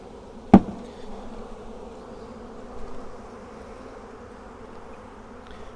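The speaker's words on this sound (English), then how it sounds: "getting as many of the bees out here as we can" A sharp knock, then a continuous low hum of honey bees from a package buzzing nearby, steady and unbroken.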